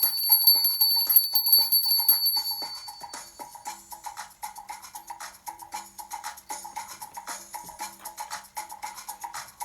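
A small hand bell rings in rapid, rhythmic strikes. It is bright and close, grows softer after a few seconds, then keeps ringing more quietly to the end.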